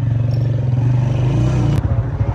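A motorcycle engine in a Pakistani Punjab village idles nearby with a low, throbbing rumble, steady and loud, with a brief clattering shift near the end.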